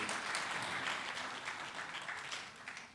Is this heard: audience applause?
yes